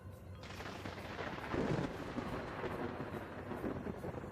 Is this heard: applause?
no